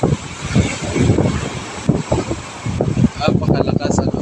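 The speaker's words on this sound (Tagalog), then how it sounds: "Napakalakas ang habagat." Strong monsoon wind at the seaside roars and gusts against the microphone in a loud, uneven rumble, while someone talks over it.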